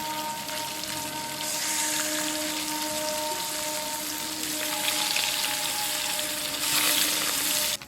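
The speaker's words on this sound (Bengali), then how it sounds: "তেলটা গরম হয়ে গেছে, মাছগুলো ভেজে নেব।" Katla fish pieces fry in hot mustard oil with a steady, moderately quiet crackling sizzle close by, swelling a little louder toward the end with no one talking.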